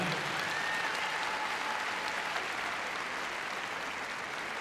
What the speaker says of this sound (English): Give her a round of applause, she leaves the arena.